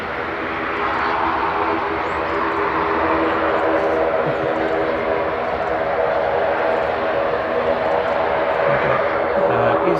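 Jet aircraft at Manchester Airport rumble loud and continuous during reverse-direction operations, a broad steady engine roar that holds throughout, with voices faintly present beneath it.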